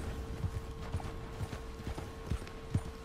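Horse hooves clip-clop in a steady trotting rhythm in Red Dead Redemption 2 as the horse runs off, faint and somewhat distant over a low background hum, with no speech.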